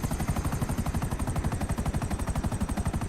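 A helicopter in the video game GTA 5 thuds with rapid, evenly pulsing rotor beats, loud and close, running steadily without a break.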